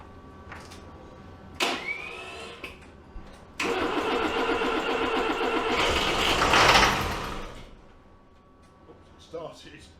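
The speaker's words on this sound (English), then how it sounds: "just going to crank it over and see if we can get oil pressure out of it" A 1991 Range Rover diesel engine with no glow plugs cranks over and fires, a burst of starter churning building into a loud running engine that then drops away, with a person speaking briefly nearby.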